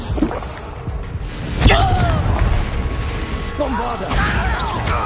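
A Confringo fire-blast spell in Hogwarts Legacy goes off as a sharp, loud burst near the middle of a busy duel, with mechanical clanks, thuds and a voice mixed through the fight.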